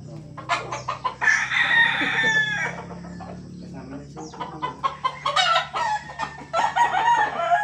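A rooster crows nearby at a gamefowl farm, with clucking chickens and other farmyard birds around, while people talk in the background.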